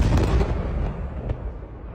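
Heavy explosions rumble through the Zhytomyr region on a Wednesday evening, a loud, booming roar that slowly decays with a faint crackle on top.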